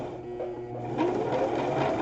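A sewing machine runs continuously while stitching a rope bowl with a wide, satin-like zigzag stitch, humming and whirring steadily at close range with no talk.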